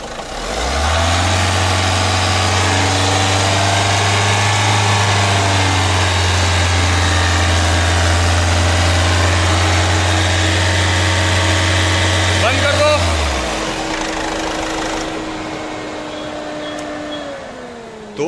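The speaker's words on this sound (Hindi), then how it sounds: "स्टार्ट करो, अब देखिए गाड़ी स्टार्ट हो गई" A Ford Figo with a black-smoke and pickup problem idles after starting, a loud, close, steady low engine drone that cuts off near the end, leaving a softer hum.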